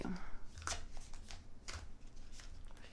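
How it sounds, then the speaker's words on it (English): Oracle cards being shuffled by hand, giving soft riffling flutters and a few sharper card slaps in quick succession, fairly quiet, with a faint voice murmuring in the background. "So we're going to shuffle these cards"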